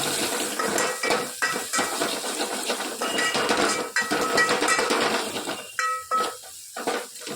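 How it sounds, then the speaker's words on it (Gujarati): A spoon scraping and clinking against a metal pot while ingredients are stirred together with asafoetida in Gujarati kadi pakoda, a steady run of close scraping and tapping with brief pauses, no talk. "સરસ બધું મિક્સ કરી દઈએ."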